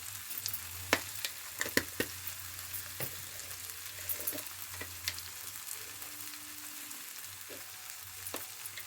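Chili, turmeric, coriander and cumin powders frying in a pan with fish, a quiet close sizzle broken by scattered clicks and scrapes of a spoon stirring and roasting the masala.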